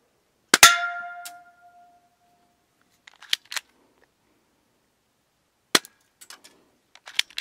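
A sharp shot from a K-118 metal air pistol with a metallic ringing pellet hit on a target, then a few quiet clicks of reloading and another shot, scattered across otherwise silent moments.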